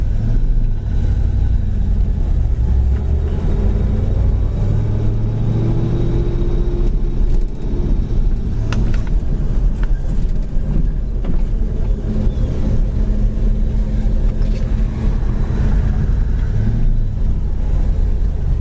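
A 1966 Ford Mustang with a 289 V8 and Holley carburetor idles steadily, a loud, even low rumble with a slight lope and a few small revs, close by and without voices.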